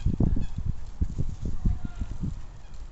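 Canada geese at Harold Park reservoir honking in a rapid series of loud, close calls, repeated bursts over steady outdoor background noise with no talk.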